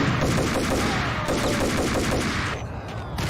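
Colt pistol fire from the Max Payne video game, a dense run of sharp gunshots with a busy, loud backdrop, easing off near the end.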